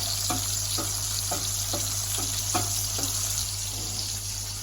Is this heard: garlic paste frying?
yes